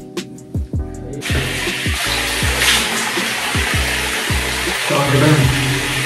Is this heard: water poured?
yes